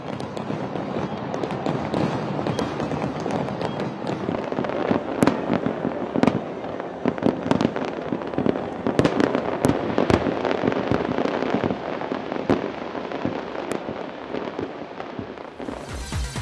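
New Year fireworks exploding over Sydney, a dense, continuous barrage of booms and crackling bursts with irregular sharp peaks, heard from a distance as a steady roar.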